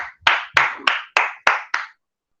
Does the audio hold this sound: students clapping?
yes